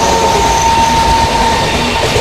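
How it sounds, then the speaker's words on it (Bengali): Gour Express passenger train pulling away on its rails, a steady loud rumble of wheels and carriage noise with a faint high whine running throughout, no voices. "এই ট্রেন ছেড়ে দিয়েছে"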